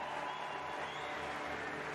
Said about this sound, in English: The roar from the crowd for the best of the Belgians.